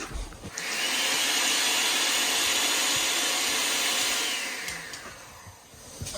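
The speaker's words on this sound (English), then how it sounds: "Blender on point too." A battery-powered blender whirs loudly and steadily for several seconds, spinning up at the start and winding down near the end.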